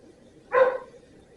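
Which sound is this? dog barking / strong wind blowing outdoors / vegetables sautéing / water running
dog barking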